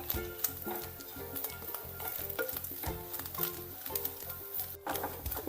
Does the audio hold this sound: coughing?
no